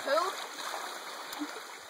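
A creek flows and splashes in a steady close wash with a few brief splatters, faint voices mixing in over the water.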